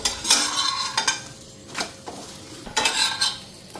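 Potato paratha frying in a pan in a home kitchen, with sizzling and a few sharp scraping and clinking strokes of a utensil against the pan, spaced irregularly, close and fairly loud.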